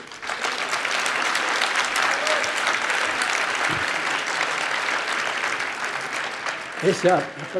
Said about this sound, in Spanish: Ese aplauso no le ha gustado nada a Rajoy